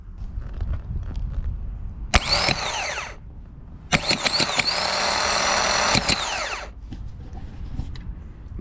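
A drift car's starter motor is bench tested off a battery, whirring in two loud bursts: a short spin of about a second, then a longer sustained whine that winds down after a few seconds, with clicks between.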